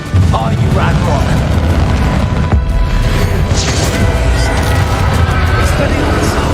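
Confringo blasting-spell explosions in the Hogwarts Legacy game during a fight with Ranrock, with deep rumbling booms under constant loud roaring battle noise and a voice speaking over it.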